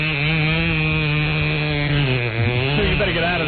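A voice imitates a chainsaw with a continuous buzzing, revving drone that holds steady and wavers in pitch, loud and close.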